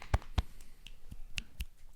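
Several sharp, quiet finger snaps come one after another at an uneven pace, with faint taps between them in a quiet room.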